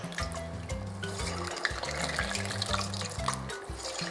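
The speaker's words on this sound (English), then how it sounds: "we're going to fry them now" Cassava chips frying in moderately hot oil, added a few at a time, giving a steady close-up bubbling sizzle with soft clinks and stirring knocks, and a low hum running throughout.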